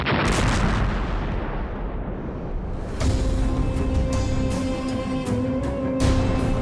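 A loud, close boom with a long rumbling decay, then a second heavy blast followed by a sustained roaring, ringing tail.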